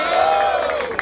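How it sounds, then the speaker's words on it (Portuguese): Crowd cheering at a rap battle, a brief loud roar of voices with a sustained shout over it. "Palmas pra essa batalha!"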